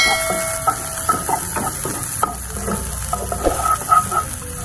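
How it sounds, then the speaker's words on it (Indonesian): Garlic and shallots, crushed and sliced, sautéing in hot cooking oil, a steady close sizzle broken by small pops and the scrape of stirring. "lalu Anda tumis si bawang putih dan juga bawang merah yang sudah kita geprek dan kita iris-iris tadi"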